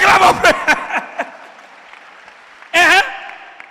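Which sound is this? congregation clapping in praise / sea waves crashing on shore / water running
congregation clapping in praise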